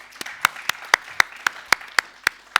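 Applause from an audience at a UK climate resilience panel event, heard as a sparse, rhythmic series of distinct claps at a moderate level, without talk.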